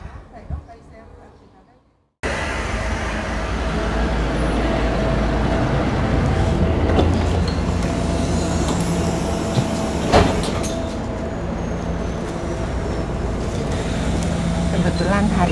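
Inside a nearly empty public bus in Zurich, a steady engine and road rumble hums after a brief quieter moment, with occasional rattles and a clunk.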